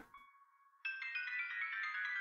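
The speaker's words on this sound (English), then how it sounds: "This is a long ringtone, by the way, Miyuki." A phone ringtone plays in the video game You and Me and Her: A Love Story: a quiet, steady electronic tone, then a louder, brighter warbling melody that keeps ringing with no talk over it.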